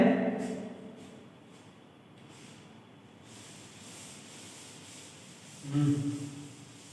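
Writing being rubbed off a classroom board during a maths lecture: a soft, continuous scrubbing and swishing lasting several seconds, fairly faint, with brief voice sounds at the start and near the end.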